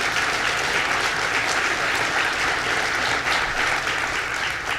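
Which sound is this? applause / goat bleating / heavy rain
applause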